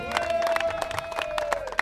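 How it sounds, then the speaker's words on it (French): An audience at a golf federation open-day event claps and cheers for the director general, a dense, lively burst of applause with crowd voices mixed in, close and fairly loud throughout. "Est-ce qu'on peut applaudir encore très fort pour Madame le DG?"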